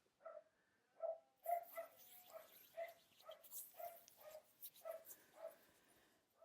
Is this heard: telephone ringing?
no